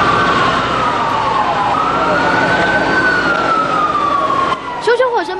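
Fire engine sirens wailing at a raging blaze at a sheet-metal car repair shop in Banqiao, Taipei County, a loud rising and falling wail sweeping up and down close by, with traffic rumble and a brief second siren burst near the end.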